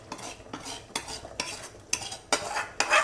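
Roasted curry paste is scraped out of a pan into pork soup, a series of about six sharp metal scrapes and clinks from a utensil against cookware, loud and close.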